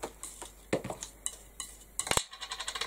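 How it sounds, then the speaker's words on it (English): A brush or palette knife mixing a dollop of paint into white paint, giving light scraping and tapping strokes with a quick run of clicks near the end, close and quiet. "I'm just going to mix it in with the white, and it will tone down"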